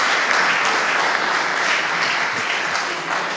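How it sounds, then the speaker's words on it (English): An audience at a launch event gives a round of applause, dense sustained clapping that holds steady and tapers slightly at the end, no speech over it. "ladies and gentlemen, please, a big round of applause"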